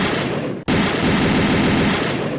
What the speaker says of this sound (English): It's a gunshot.